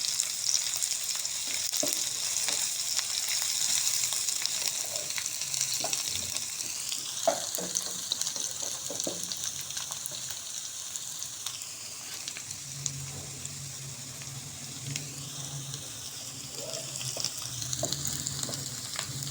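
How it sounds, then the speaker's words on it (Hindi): Garlic-ginger paste frying in a pan with golden onions, a steady close sizzle throughout with occasional stirring scrapes and clinks. "अब हम इसमें ये लहसुन अदरक का पेस्ट डाल देंगे। थोड़ा सा इसको भूनेंगे।"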